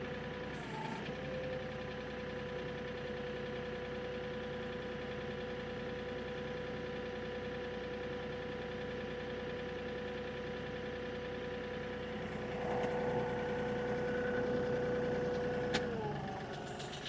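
A tractor engine idles steadily nearby, a low constant hum with a faint whine, then a brief rise near the end.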